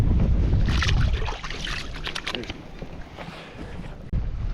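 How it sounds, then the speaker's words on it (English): Wind gusts across the Murray River on a fishing outing, a loud low rumble of microphone buffeting that eases midway and surges again near the end, with faint water and boat sounds beneath. "it is windy and a bit harder to fish"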